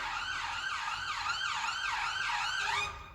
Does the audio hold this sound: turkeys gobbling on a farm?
no